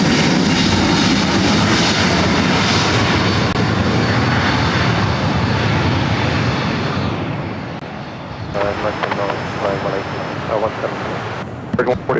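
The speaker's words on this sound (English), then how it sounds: "Lufthansa Flight 452 coming in from Munich, A380 Super." Loud, steady jet roar from a Lufthansa Airbus A380 on final approach into LAX from Munich, broad and rushing for about eight seconds before easing off, then a quieter tail with wind noise; no talk over it.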